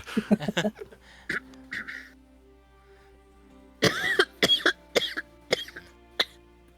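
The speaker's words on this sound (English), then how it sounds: "That's a cough." Several sharp coughs and throat clearing, a cluster at the start and a longer run of bursts later, fairly close with quiet pauses between.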